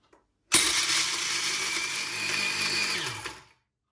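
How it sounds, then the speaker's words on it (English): Countertop blender grinding Werther's Original toffees into powder, a loud steady whirring roar that kicks in abruptly after a brief click, holds for about three seconds with slight wavering, then spins down to silence. "This then goes on my blender."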